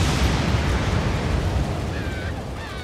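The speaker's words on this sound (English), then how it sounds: "Bombs away." Air strike bombs explode in Halo Wars, a loud sustained rumbling roar of blasts and debris that fills the whole moment and fades slightly toward the end, with faint whistling tones near the finish.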